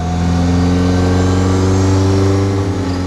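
A classic Bentley 180 with no power steering and drum brakes accelerates, its engine a steady, loud, close drone with strong low harmonics and no voices.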